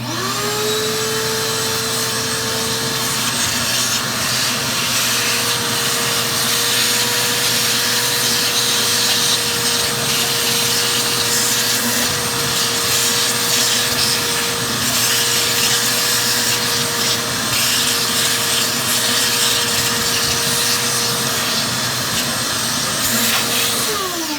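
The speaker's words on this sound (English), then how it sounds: "Now, I'll hit the vacuum again." A vacuum cleaner sucks out a Munchkin boiler during cleaning, running continuously with a loud, steady whine and suction noise, shifting slightly in pitch as it works.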